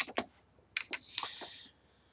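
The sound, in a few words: typing on a computer keyboard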